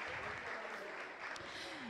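Applause from an audience at a talent show as participants are named, a steady broad clatter of clapping mixed with voices and crowd noise throughout.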